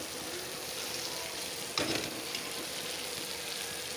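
Boiled chickpeas added to a frying pan set off a steady, moderately quiet sizzle, with one brief burst of louder crackling as they land, then continuous frying.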